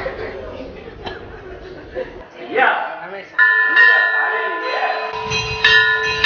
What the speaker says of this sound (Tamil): கோயில் மணி ஓசை எடுத்துருப்பா.